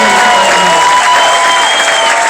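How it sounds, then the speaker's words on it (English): Audience applauding police officers at a political speech event, a loud, dense clapping crowd with some cheering throughout. "Give our police officers a round of applause."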